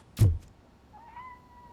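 A single thump, then a short, thin cat meow from the video game RoboCop: Rogue City, fairly faint over a quiet background.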